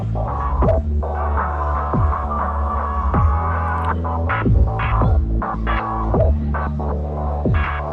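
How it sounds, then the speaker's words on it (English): A distorted, gritty guitar tone plays repeated notes and chords in a steady rhythm, loud and saturated, with no voices. "then it has a normal type of distortion, which is more of a guitar distortion."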